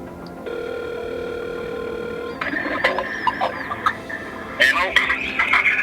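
A steady telephone dial tone sounds from a handset while a call is placed from a hunting camp in Saskatchewan, followed by keypad tones and brief clicks; voices talk faintly over it.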